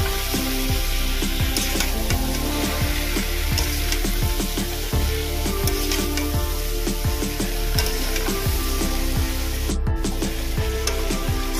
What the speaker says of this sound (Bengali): এর মধ্যে পুঁই শাক, কুমড়ো, আলুগুলো দিয়ে দেবো। এটা ভালো করে মিশিয়ে নেব।